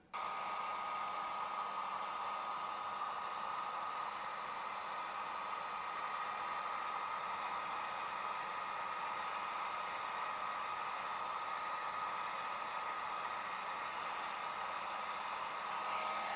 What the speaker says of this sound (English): here's an example of how I'm going to try and age this using my heat gun